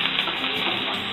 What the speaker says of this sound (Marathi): त्यावर मी छोटा कांदा घालते फोडणीला।